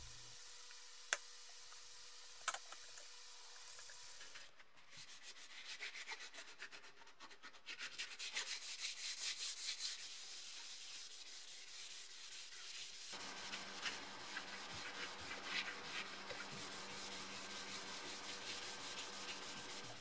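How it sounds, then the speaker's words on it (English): Soft sanding pads of 400 grit rub steadily over primer on an old metal toolbox, a continuous close scratching hiss with no talk. "I'm using 400 grit soft sand pads to flatten the primer."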